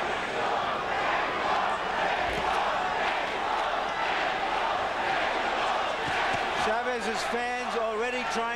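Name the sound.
boxing arena crowd chanting during Chavez vs De La Hoya fight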